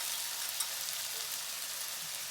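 Manchurian paste with coriander frying in a pan, giving a steady, even sizzle throughout with no talk.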